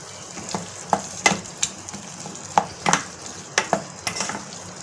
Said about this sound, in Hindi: ये एक प्याज को हमने बहुत ज़्यादा नरम नहीं करना, बस थोड़ा सा इसे हमने प्याज को पकाना है।